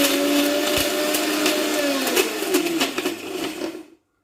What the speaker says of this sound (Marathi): आता मिक्सरला आपण बारीक करूया।